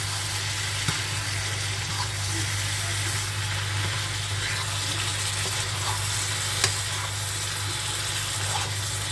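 Potatoes fry in a hot pan, giving a continuous soft sizzle with faint crackles and a low steady hum beneath, close and unbroken with no talk.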